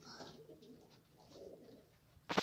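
Pigeons coo softly and quietly nearby, ending in a sudden burst of wing flaps as a bird takes off.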